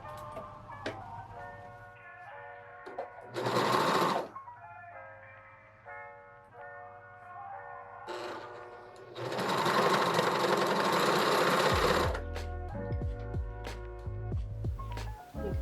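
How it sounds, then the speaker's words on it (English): An overlocker serger stitches a hood onto a hoodie, its motor whirring in several loud bursts of fast, steady running separated by quieter pauses with clicks and handling sounds. "I'm going to use an overlocker to attach my hood."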